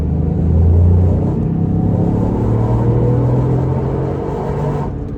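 A Toyota GR Yaris accelerating: a loud, steady low engine drone with a faintly rising tone, heard alone with no talking.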